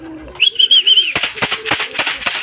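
Racing pigeons at their loft give a soft, wavering coo, followed by a burst of fluttering and scuffling close by, with no talk.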